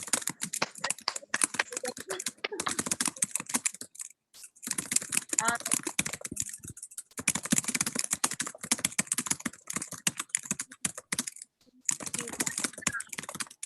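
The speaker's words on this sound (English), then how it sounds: "So someone's typing really loudly." Rapid, loud clacking of computer keys, typed in bursts with brief pauses, close and crisp.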